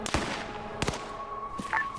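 A few sharp gunshots ring out in a military video game, one near crack early, a double report shortly after, and a fainter shot near the end.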